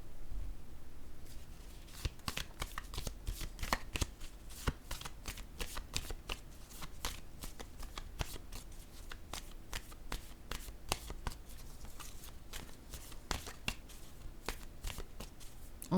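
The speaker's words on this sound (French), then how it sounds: "Je vais déposer une autre carte." Playing cards are shuffled and laid down on a table in a steady, close run of soft crisp flicks and riffles, quiet throughout with no talk.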